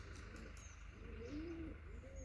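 Soft pigeon coos rise and fall a few times over a low, steady hum, faint and close by.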